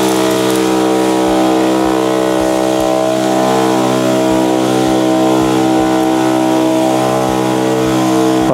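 A VEVOR 16L electric sprayer sprays over concrete with a loud, steady motor drone and a strong harmonic hum, broken by faint periodic low thumps throughout.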